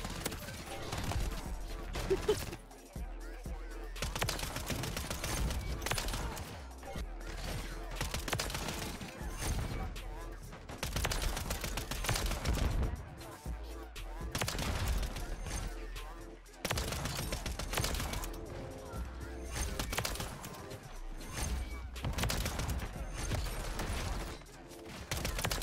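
Submachine gun fire in Call of Duty: Modern Warfare 3, loud repeated bursts of rapid shots in long stretches separated by short pauses, dense and continuous over the game's background noise.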